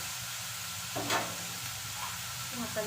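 Bitter gourd fries lightly in a pan, giving a soft continuous sizzle with a brief stirring scrape partway through.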